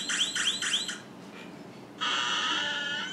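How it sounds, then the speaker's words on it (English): Electronic alarm from a Stop Thief board game device, sounding as a loud warbling three-pulse siren, then a pause, then a steady sustained electronic tone, all close and without any talk. "I think that's the alarm."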